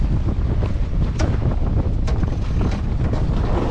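Strong wind roars steadily across the microphone on a sailing boat with a constant rush and buffeting, loud and close, with water sloshing underneath.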